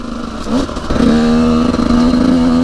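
An 85cc two-stroke motorcycle, new and being run in, revs up close and loud, its buzzing engine note climbing and then holding high and steady.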